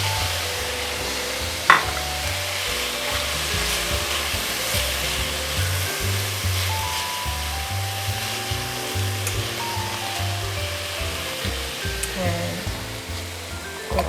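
Torn spinach sizzles and wilts in a hot pan with lemon juice added, giving a steady frying hiss with occasional soft clinks and stirring sounds, and a low hum underneath.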